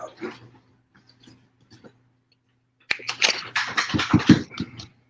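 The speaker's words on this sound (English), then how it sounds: "Sorry about the dogs. They're always in the background, being obnoxious." Dogs in the background: one whimpers and snuffles quietly at first, then breaks into a cluster of louder, rough barks and yelps nearby.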